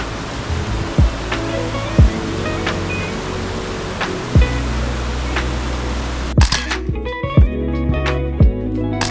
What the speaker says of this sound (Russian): мы добираемся до водопада Чигардай.